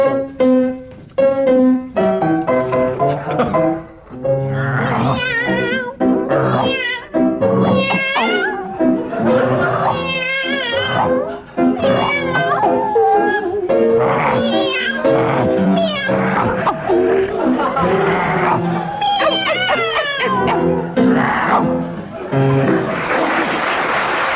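Two comedians on a vintage radio panel game sing a song entirely in animal voices, one barking like a dog and one meowing like a cat, a continuous loud vocal imitation with sustained mews and yowls throughout.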